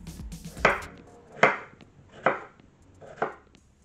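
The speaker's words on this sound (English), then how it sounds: "For this, I am going to slice some strawberries." A knife slices strawberries on a cutting board, giving four evenly spaced, crisp chops close up in a quiet kitchen.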